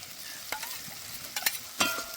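Chopped green chillies, coriander leaves and capsicum being stir-fried for a soybean curry, a soft sizzle under a few sharp scraping strokes of a spatula against the pan.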